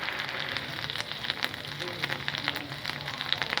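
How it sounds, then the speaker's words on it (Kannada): A mung dal burger patty fries in a pan with a soft, steady sizzle and faint crackle that runs throughout, fairly quiet and close. "ಇವಾಗ ನಾನು ಒಂದೊಂದೇ ಬರ್ಗರ್ ಫ್ರೈ ಮಾಡ್ಕೊಳ್ಳೋಣ"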